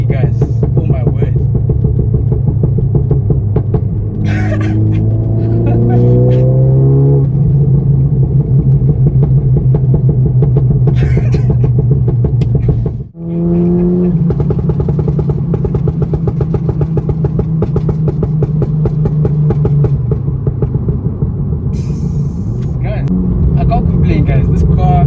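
Engine of a front-wheel-drive VW Golf 7 GTI tuned to Stage 2 Plus with a six-speed DSG dual-clutch gearbox, droning steadily as it accelerates through rising revs and a quick gearshift, heard from inside the cabin throughout.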